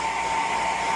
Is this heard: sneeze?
no